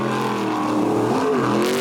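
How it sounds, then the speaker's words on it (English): A jet sprint boat engine at a New Zealand superboat race holds a loud, steady exhaust note that barely changes pitch through a tight corner, close and continuous for the whole moment. "if you listen to the exhaust note, it hardly ever changes when they come out of these tight corners"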